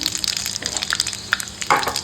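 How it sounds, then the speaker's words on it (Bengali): Bay leaf and panch phoron spices frying in hot oil for a vegetarian Bengali dish, giving a steady close crackle and sizzle with a louder burst of spattering near the end. "তেল গরম হয়ে গেছে দিয়ে দিলাম তেজপাতা আর দিয়ে দিচ্ছে এই যে পাঁচফোড়ন"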